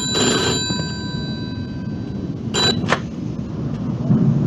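A telephone rings in the video game Mafia 2, two short bursts of bright bell-like ringing over a steady rumble of rain and thunder in the background.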